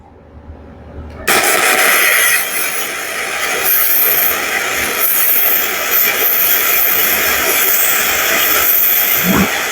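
A BestArc MIG 145 lays a flux-core weld with its polarity corrected: after a brief quiet second, a loud, steady crackling hiss begins and runs continuously to the end.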